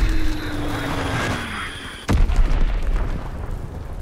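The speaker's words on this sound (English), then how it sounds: "Enemy bomb incoming! Get to cover!" A sudden enemy bomb blast in the World War II shooter Call of Duty: WWII cuts through a steady battle din, a single sharp boom followed by a rumbling, crackling aftermath.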